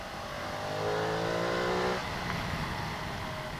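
Ducati Multistrada V2S motorcycle engine revving hard above 4000 rpm, a rising rasp that climbs for about a second, then drops off into a rougher, lower running note, moderately loud and alone.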